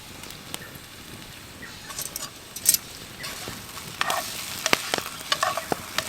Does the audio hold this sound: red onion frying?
yes